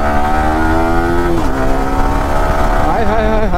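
A Yamaha R15 M motorcycle engine accelerates with a loud, rising tone that dips briefly as it shifts gear, then climbs again, heard up close while a person talks over it.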